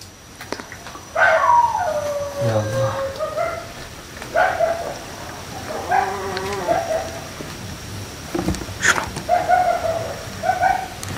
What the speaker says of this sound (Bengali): চারপাশটা এতটা কুকুরের এতটা আর্তনাদ কিসের জন্য?